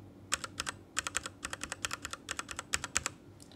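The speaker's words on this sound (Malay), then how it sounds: "Okay, bunyi red switch." Rapid typing on a Machenike K500 mechanical keyboard with red switches, close-miked: a quick, fairly quiet flurry of dozens of keystrokes in uneven bursts.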